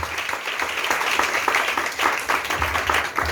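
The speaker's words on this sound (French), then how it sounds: "Acclamons le Seigneur pour ta vie." A church congregation applauds in praise, a busy crowd of clapping hands in uneven waves with some voices mixed in, close and fairly loud.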